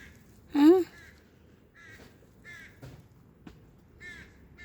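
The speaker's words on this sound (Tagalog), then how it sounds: "May ibon doon." A crow caws once, loud and close, followed by a few fainter bird calls spaced apart outdoors, with no talking over them.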